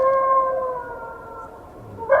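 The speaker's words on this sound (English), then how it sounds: "we've got this wolf and it's howling" AI-generated wolf howl, a single sustained tonal cry that holds steady and slowly fades, alone and fairly close, with a brief sharper sound at the very end.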